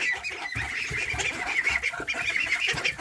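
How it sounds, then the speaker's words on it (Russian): Muscovy duck hen with ducklings of a quacking breed, giving a steady busy mix of honking and peeping calls close by, continuous for a few seconds with no talking. "Мамка индоутка, а детки крякающие породы."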